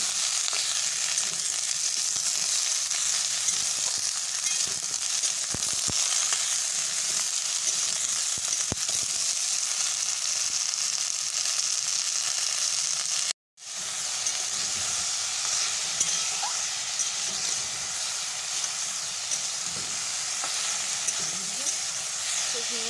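Ridge gourd and potatoes fry in a pan, giving a steady, close hiss and sizzle with faint stirring, which drops out for a moment partway through and then returns.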